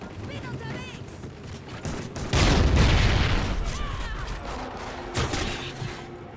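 Video game gunfire in a military shooter: a heavy burst of shots rings out mid-clip and another shorter burst follows, over a busy background of game effects and ambience.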